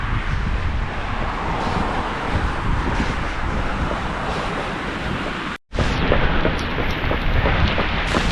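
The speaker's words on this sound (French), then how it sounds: "Il s'est mis à flotter à fond." Heavy rain pours down during a nighttime run home from work, a dense continuous hiss with faint low rumbles, cut by a brief dropout before the downpour resumes.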